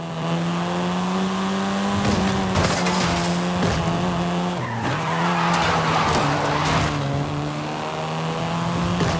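A Volkswagen Golf R in Forza Horizon 5 drives hard with a loud, steady engine drone and long bursts of tire squeal and skidding through corners, with no talk.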